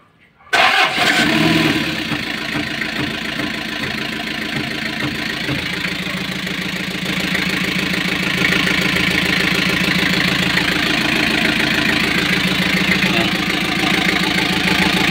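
A freshly overhauled Kia KC2700 truck's engine, hard to start, catches abruptly after glow-plug heating, then keeps running loud and rough with a steady, knocking idle.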